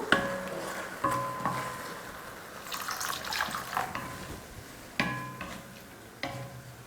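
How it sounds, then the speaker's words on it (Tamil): Water is poured into palak dal in a cooking pot and stirred, giving faint splashing and trickling with a few light clinks. No one speaks. "அவ்வளோதான், தண்ணி ஊற்றி கலந்தாச்சு."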